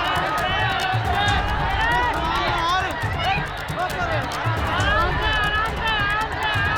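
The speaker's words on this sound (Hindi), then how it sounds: "लोग चीख रहे हैं, चिल्ला रहे हैं। जरा इस शोर को आप सुनिए" Panicked crowd screaming and shouting during a stampede at the Kalkaji temple in Delhi, a dense, continuous roar of many overlapping voices with high shrieks and cries, loud and close throughout.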